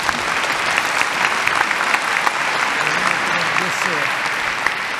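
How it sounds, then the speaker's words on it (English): Steady, dense applause from a large audience at an insurance industry conference, continuous clapping filling the whole stretch at an even level. "Would you please give them a round of applause?"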